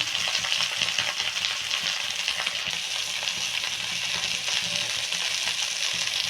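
Okra frying in a pan, salt added for seasoning, gives a steady, loud, even sizzle that runs unbroken throughout with no voices.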